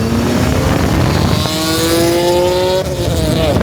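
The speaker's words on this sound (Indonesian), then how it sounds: "suara mobil ini sangat-sangat luar biasa berisik" A BMW E46 coupe with four Japanese Powercraft exhausts accelerates hard and very loud, its engine note climbing through gear changes with brief breaks between rising pulls.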